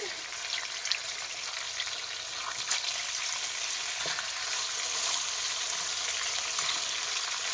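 Salisbury steak patties sizzle in a frying pan just after being flipped, a steady broadband crackle holding at an even level throughout with no talking.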